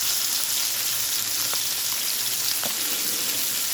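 Soaked, cut fish fries in a pan with a continuous, close, bright sizzle and a few sharp pops and crackles over a few seconds.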